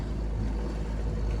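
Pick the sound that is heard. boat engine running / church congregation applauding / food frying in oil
boat engine running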